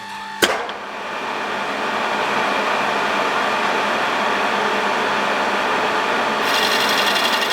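A boring tool cuts out BMW E34 bushings. A sharp click opens a steady, loud machining hiss and whir that holds continuously up close, lifting slightly near the end.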